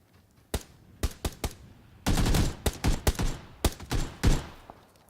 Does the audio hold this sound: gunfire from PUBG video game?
yes